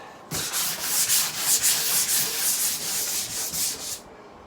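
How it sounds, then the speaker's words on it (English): Wet sanding of a bathroom wall being prepped for paint, a rhythmic rasping rub in repeated back-and-forth strokes, close and fairly loud, starting abruptly and stopping near the end. "the reason I want to wet sand it is so much less mess"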